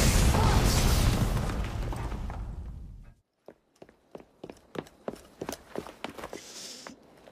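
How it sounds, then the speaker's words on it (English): A loud, sustained blast from an explosion in Assassin's Creed Syndicate rumbles for about three seconds and then fades. It is followed by a scatter of sharp, sparse clatters and footstep-like hits. "What was that explosion?"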